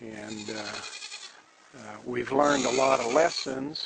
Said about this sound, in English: You can hear the goats in the background here.